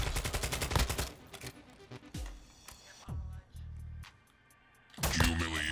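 A sentry gun in Call of Duty Warzone, set in Al Mazrah, rattles off rapid automatic bursts, mixed with other shots and game sounds, with pauses between volleys and a final loud burst.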